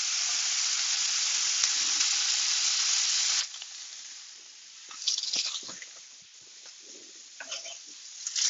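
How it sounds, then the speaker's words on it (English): Loud bright sizzle as bacon hits a hot pan for pierogies, a strong steady hiss for about three seconds, then dropping to softer crackles and intermittent spits and pops. "Toss our bacon in."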